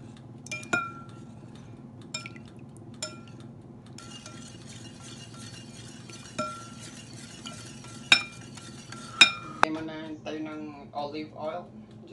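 Utensils clink against a bowl while ingredients are mixed, producing faint, sparse taps and clinks spread through the clip under a low background hum, with people talking nearby.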